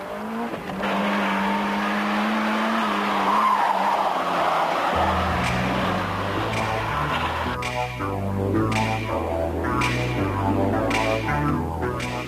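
A Renault 19 16S sports car driven hard: a loud engine revs and strains, tires squeal briefly, then the engine note climbs through rapid gear changes, heard up close with no speech.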